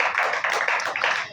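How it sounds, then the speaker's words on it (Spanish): Crowd applause, a steady patter of many hands clapping at close range, fairly loud and continuous throughout. "voy a pedir un gran aplauso para Carlos y para Stephanie Maldonado y Sar"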